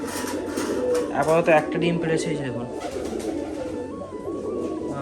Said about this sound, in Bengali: এই হচ্ছে মাদি পায়রাটা দেখুন।